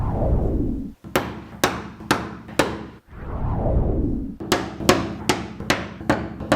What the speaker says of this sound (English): enlarge them using a larger nail